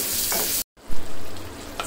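Broiler chicken sautés in a pan on a stove with a loud, steady sizzle and stirring scrapes, broken by a short cut to silence before the frying noise resumes.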